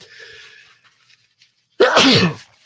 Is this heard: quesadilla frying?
no